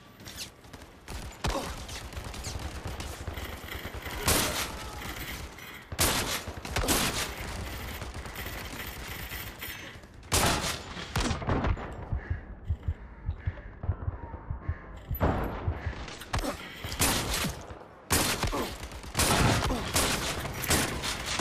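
Rapid bursts of automatic gunfire from turrets in the VR shooter game Zero Caliber: Reloaded, loud and close, coming in repeated volleys separated by short gaps over a continuous rattling barrage.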